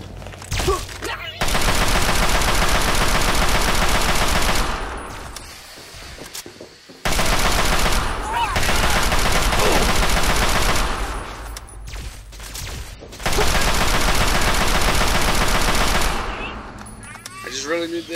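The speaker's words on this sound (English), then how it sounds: "Just a Chinese assault rifle." Sustained bursts of automatic fire from a Chinese assault rifle in the video game Fallout 3, three long loud volleys separated by brief pauses, with some game sound between them.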